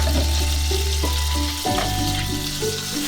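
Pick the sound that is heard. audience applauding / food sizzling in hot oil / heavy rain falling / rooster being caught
food sizzling in hot oil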